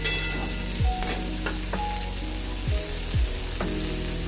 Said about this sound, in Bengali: দিয়ে দিব কেটে রাখা মিষ্টি কুমড়োগুলো, দিয়ে এটাকে হালকা ভেজে নেব